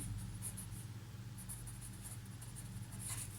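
Pen writing on paper while working a maths problem, a steady soft scratching with brief strokes over a low hum, no talking.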